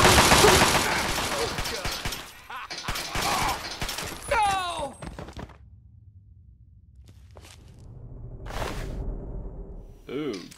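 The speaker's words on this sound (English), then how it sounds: "Chinese assault rifle" Chinese assault rifle gunfire in Fallout 3, bursts of rapid shots mixed with whooshes and mechanical clatter, loud at first, then thinning out into quieter game sounds.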